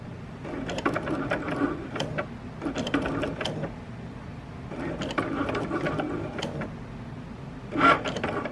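An electronic craft cutting machine cuts and writes letters, its carriage motor whirring in rhythmic bursts with short pauses between passes, close and steady, with a louder mechanical burst near the end.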